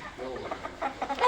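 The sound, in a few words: home-raised red chickens clucking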